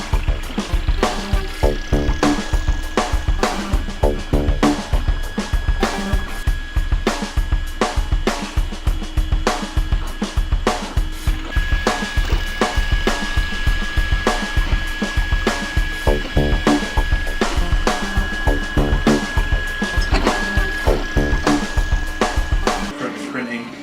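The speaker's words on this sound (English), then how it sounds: "We're doing some 3D printing today and it's a bit of a noisy beast." A machine whirs and buzzes continuously with rapid rhythmic stepping motor tones, loud and close, running without pause throughout.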